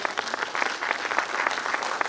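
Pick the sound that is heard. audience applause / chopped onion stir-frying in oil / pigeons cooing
audience applause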